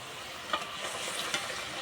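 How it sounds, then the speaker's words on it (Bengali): Fried okra goes into a pan of boiling curry gravy under a steady bubbling sizzle, with two soft plops as pieces land. The sound is close and there is no talking. "ঝোল ফুটে গেছে, এবার ভেজে রাখা ভেন্ডিগুলো দিয়ে দেব।"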